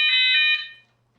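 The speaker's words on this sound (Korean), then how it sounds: "1초 동안 사이렌이 울리고, 부저음이 울리고, 여기 불이 들어오면서 테스트가 확인되죠" A fire alarm system runs its test, giving a bright, piercing electronic tone for about half a second before it fades into quiet.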